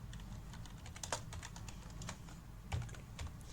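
Fingers type code on a computer keyboard, producing quiet, close, irregular key clicks with a few louder taps, over a soft room background.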